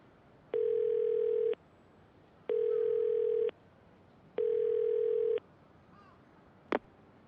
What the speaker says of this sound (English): I just head to this payphone right now. Better call the family office.